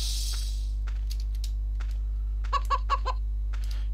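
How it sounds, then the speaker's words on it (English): Chickens cluck in the Western shooter game Outlaws, a short run of sharp clucks near the end over a constant low hum, with a faint earlier cackle. "You can shoot the chickens,"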